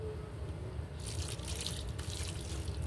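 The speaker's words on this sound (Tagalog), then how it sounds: "lagyan na natin ng tubig. Diligan na natin." Water poured onto sweet potato plants in garden rows: a steady gushing, splashing stream runs throughout, growing brighter and louder partway through, with no talk.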